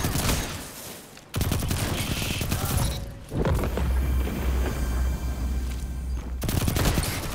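Rapid gunfire, booms and bursts fill a competitive sniper-focused video game match, loud and dense throughout, with brief gaps between volleys and no talk.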